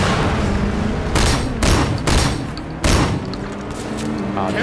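Gunfire in the video game Sleeping Dogs Definitive Edition, several loud bursts of shots in quick succession over a constant background of game noise.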